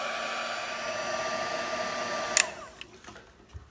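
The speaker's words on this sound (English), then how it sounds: "And then we're going to go ahead and heat this up with our heat tool." A heat tool blows hot air over embossing powder in a steady, moderately quiet whoosh, then switches off abruptly with a click, leaving brief faint handling taps.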